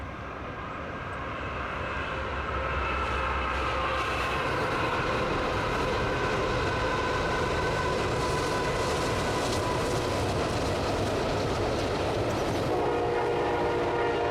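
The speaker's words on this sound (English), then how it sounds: "really like the fact that the shorter train is in front of the taller train" Fast trains roll past on the Water Level Route in Ohio with a continuous heavy rumble and clatter while a loud horn sounds sustained tones over the noise.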